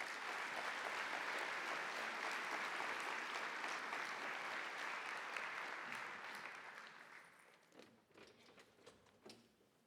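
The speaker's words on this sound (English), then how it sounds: "we should have a round of applause for all of you and Landcare Australia for organising this wonderful conference" Dense clapping fills the room at a Landcare Australia conference panel, holding strong for several seconds before tapering off into scattered last claps.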